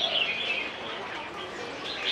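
A sunbird kept as a caged bird at an antique market chirps in quick, thin high notes that run steadily, fairly faint against the market's background murmur.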